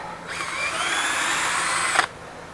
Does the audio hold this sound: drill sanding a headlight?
yes